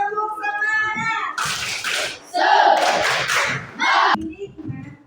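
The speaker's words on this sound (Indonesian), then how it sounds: "Oke, semuanya tepuk semangat." Indonesian schoolchildren in a classroom do a spirited clapping chant, bursts of group claps and shouted voices in short loud phrases after a teacher's speech, close and lively.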